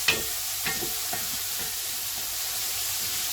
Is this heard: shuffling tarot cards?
no